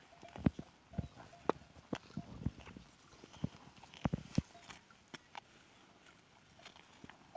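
A cow walks across the ground, its hooves landing in irregular, fairly close thuds and knocks against a quiet outdoor background.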